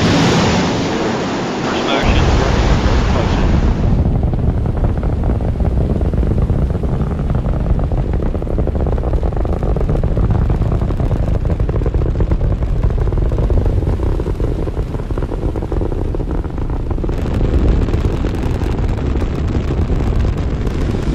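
A deep, continuous roar of an AurigaLITE rocket launch thunders loudly for the whole stretch, crackling and rumbling, with no talking heard.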